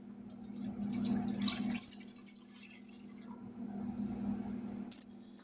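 Two cups of milk pour into a pot for coconut cream pie custard, a soft liquid splashing and trickling that swells, eases, then rises again, faint and steady with no talking.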